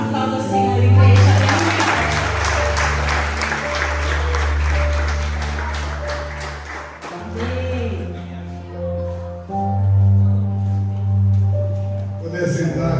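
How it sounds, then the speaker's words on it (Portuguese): A church congregation applauds during a worship service, with broadband clapping blended under loud music and a voice that keeps sounding throughout. "Aplauda o Senhor, igreja."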